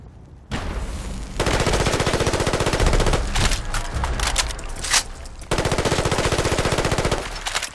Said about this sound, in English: It was just destroying it with me shooting his shell